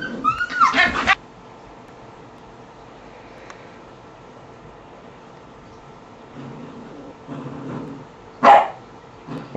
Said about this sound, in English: Why you gotta bark?